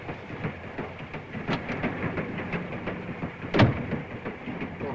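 A European passenger train rolls along the rails, a continuous low rumble with faint rhythmic clatter and a brief louder knock, heard from inside without talking.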